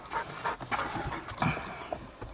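A dog pants in quick, rhythmic breaths close by, with a few brief whimpery accents, all fairly quiet and with no talk over it.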